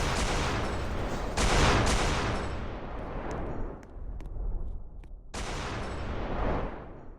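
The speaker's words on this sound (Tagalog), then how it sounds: "umalis na siya guys, pero putok ng putok pa rin siya guys" Rapid gunfire in the Roblox Brookhaven game, dense bursts of shots running almost continuously, with a brief lull before the firing resumes loudly.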